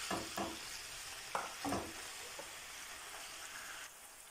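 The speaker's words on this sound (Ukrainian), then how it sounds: "Куряче філе нарізаємо соломкою і обсмажуємо на соняшниковій олії 10 хвилин." Chicken fillet strips fry in sunflower oil in a pan, giving a steady faint sizzle with a few soft stirring scrapes and clatters near the start, and no talking.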